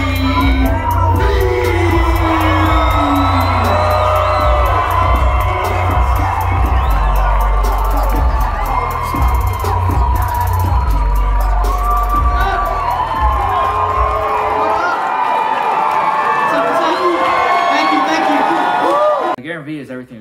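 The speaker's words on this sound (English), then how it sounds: "Please welcome a Success Resources roaring round of applause for Garyvee." A large conference audience at an achievers' congress in Orlando roars with sustained cheering, whoops and shouts for a keynote speaker's entrance. It is loud and dense throughout, with a booming bass underneath, and dies away abruptly at the end.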